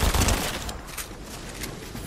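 Rapid dual SMG gunfire in a video game, a dense rattling burst loudest at the start and continuing steadily as a wash of shots for about two seconds.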